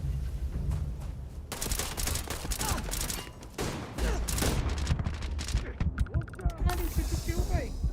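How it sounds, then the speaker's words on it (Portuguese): Dense gunfire rattles in a video game, with rapid bursts of automatic shots aimed at the player and scattered heavier impacts. The shooting is steady and close throughout, with brief voices underneath. "Quem tá me atirando?"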